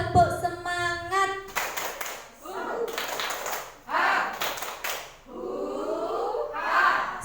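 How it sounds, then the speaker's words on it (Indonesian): An audience of teachers claps out the rhythmic Indonesian 'tepuk semangat' pattern, with short bursts of patterned clapping alternating with voices chanting and talking between them. "Coba tepuk semangat"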